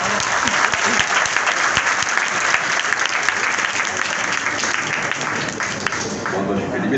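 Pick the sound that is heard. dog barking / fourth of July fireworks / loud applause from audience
loud applause from audience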